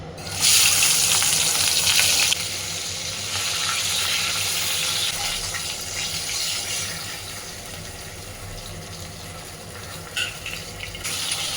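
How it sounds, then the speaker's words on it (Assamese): Fish fry in a pan with a bright, loud sizzle that swells at first, then settles into a steadier, softer crackle with occasional spitting bursts. "প্ৰথমতে আমি মাছখিনি ধুনীয়াকৈ ভাজি লওঁ"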